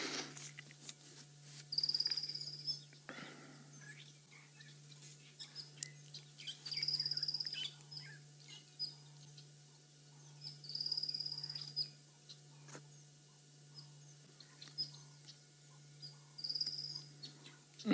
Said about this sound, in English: It's nice and cool, but there's a lot of birds calling around us.